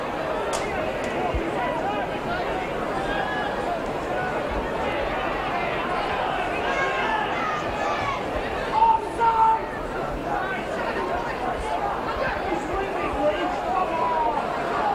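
A rugby league crowd fills the south stand at Leeds v Barrow with a continuous murmur of spectator babble and occasional rising cheers, while a commentator talks over it.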